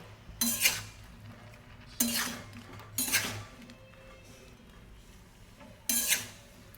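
A utensil scrapes and clanks against a pan in four separate bursts while a fish head is stirred with ginger and garlic; quiet between strokes.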